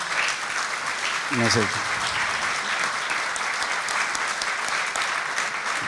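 Audience applause fills a hall through a book presentation on a commando history, a steady broad wash of clapping that runs the whole span while someone briefly speaks over it.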